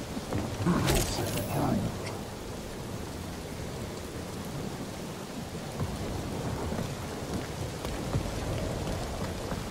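Steady rain pours down in a stormy scene from the video game Marvel's Guardians of the Galaxy, with a sharp crack of thunder near the start over a dense, continuous hiss of falling water.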